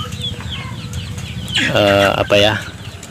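Crossbred chickens cluck steadily on a small free-range plot, then a couple of louder, drawn-out calls ring out close by near the end.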